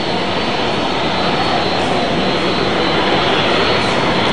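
A jet airplane arriving at Halim Perdana Kusuma airport in Jakarta, a loud, steady, broadband engine roar that stays close throughout with no voices.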